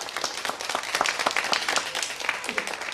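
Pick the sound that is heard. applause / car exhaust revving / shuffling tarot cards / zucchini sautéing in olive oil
applause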